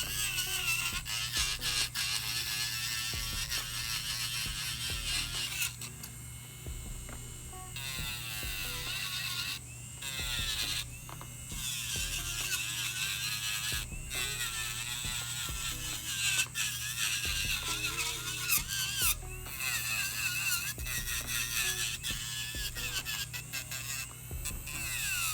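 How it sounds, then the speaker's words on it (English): A gel top coat is shaved off a broken fingernail, giving a continuous close electric buzz with a scratchy, grinding edge, steady throughout with brief shifts in pitch as the tool presses against the nail. "I'm going to shave off that top coat."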